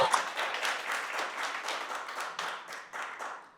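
An audience applauds a woman being welcomed as an evening's speaker, a steady, fairly loud wash of many hands clapping that carries on without a break and fades slightly toward the end.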